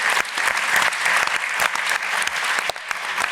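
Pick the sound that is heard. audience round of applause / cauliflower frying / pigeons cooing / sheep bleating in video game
audience round of applause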